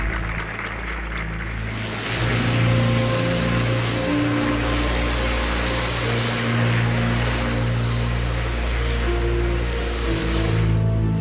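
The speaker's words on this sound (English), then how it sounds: "As the helicopter began to rise" A helicopter lifts off nearby, its engine whine and rotor drone holding as a loud, steady hum that swells after a couple of seconds, with a high whistling turbine tone above it.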